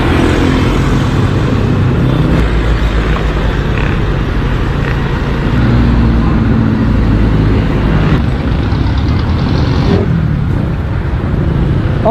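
A motorbike engine runs steadily after a carburetor adjustment, a loud, continuous rumbling drone that holds for the whole stretch with no talking.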